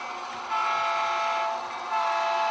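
HO scale model train running on a small switching layout, giving a steady whirring hum with a faint rising whine.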